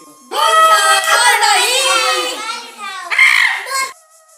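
Village children at play, their high excited voices calling and shouting loudly and close by for about four seconds, with a brief louder cry near the end.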